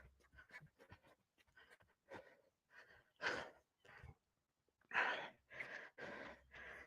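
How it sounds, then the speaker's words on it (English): Heavy, uneven breathing from a 70-year-old man right after a four-cone drill of forward runs, side shuffles and backpedals: a string of close, breathy gasps and sighs, a few louder bursts among softer ones. "you see I'm already out of breath"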